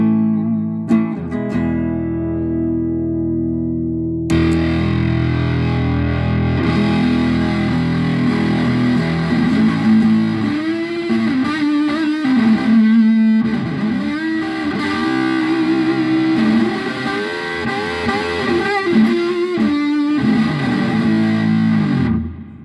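Electric guitar with HB90 pickups on the bridge position played through a Fuzz Face fuzz pedal, loud and sustained with thick distorted chords and wavering bent notes, alone without talk.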